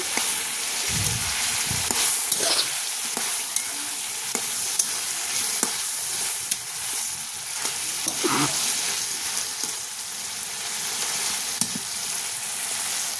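Mustard greens curry sautés in hot oil, a continuous close sizzle with frequent spatula stirs and scrapes against the pan, steady throughout.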